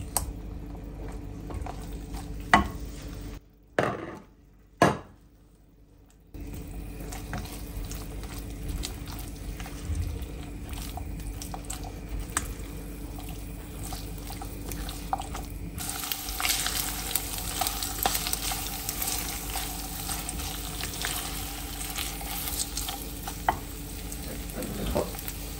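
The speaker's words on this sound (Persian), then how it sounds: "حالا مرغی که از قبل سرخ کرده بودیم و به رب با انار تفت داده شده" Chicken sizzling in a frying pan with pomegranate paste for Gilani nardooni, a steady close fry and stirring that runs throughout, with a couple of brief pauses early on and a brighter hiss in the second half.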